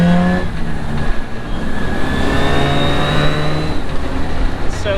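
A Jeep accelerating up to 45 miles per hour: a close, continuous engine hum and road roar with tonal harmonics climbing steadily in pitch, and a brief sharp squeak near the end.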